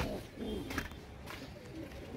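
A pigeon cooing softly among roosting birds, a couple of low, faint coos over quiet background noise and muffled movement.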